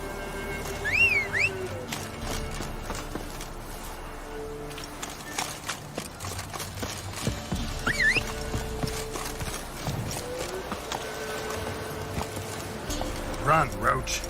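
Roach the horse galloping in The Witcher 3, a steady run of clip-clop hoofbeats through the whole stretch, with whinny-like tones and game ambience mixed in.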